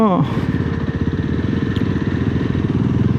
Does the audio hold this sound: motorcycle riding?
yes